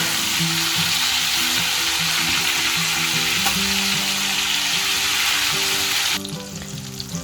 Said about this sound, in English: we're gonna flip it around so all sides get fried properly